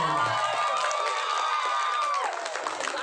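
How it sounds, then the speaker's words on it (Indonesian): A crowd claps and cheers at a village Quran quiz contest, with a loud, steady burst of applause mixed with some tonal music or a sustained voice. "Tepuk tangan"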